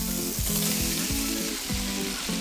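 Zucchini and onion frying in oil with garlic and meat, a dense close sizzle and crackle running steadily throughout, with faint periodic stirring scrapes.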